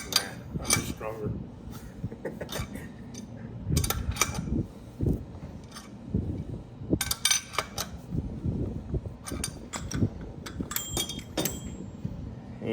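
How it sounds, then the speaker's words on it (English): Wheel bearing being worked out of a motorcycle wheel hub during a bearing install, with irregular metallic clinks, scrapes and ratcheting knocks close by, interspersed with brief pauses. "That bearing is about to pull out of the wheel here"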